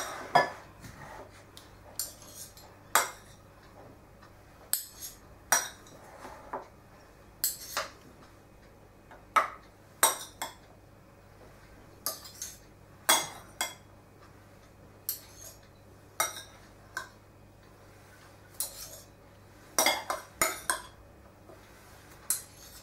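A utensil scrapes spilled quiche filling off a metal baking tray in a home kitchen, giving sharp, irregular scrapes and clinks spaced a second or two apart over a quiet background.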